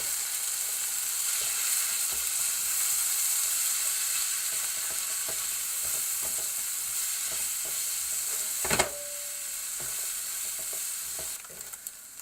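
Vegetables and rice for chicken fried rice sizzle and fry steadily in a hot pan while being stirred, with scraping utensil strokes throughout and one sharper clatter near the end.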